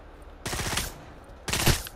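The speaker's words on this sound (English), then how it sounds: "Oh, it's that shooting." Rapid automatic gunfire from the VR shooter game Pavlov, with two loud, close bursts of rattling shots separated by a short pause.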